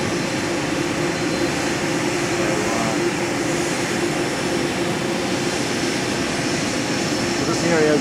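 An electrically driven gas compressor at an oil production plant gives off a loud, constant industrial roar and hum that stays level throughout, with faint voices in the background.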